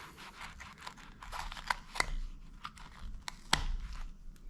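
A utility knife slices through a worn clipboard belt clip, giving a string of short crunching, tearing cuts with two or three sharper snaps, close up and with no talking.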